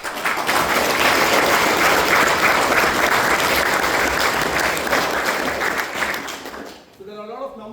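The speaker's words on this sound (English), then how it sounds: "so I think a round of applause for them as well." Sustained audience applause at a conference filling nearly the whole stretch, dense and steady before tapering off near the end as a voice begins talking.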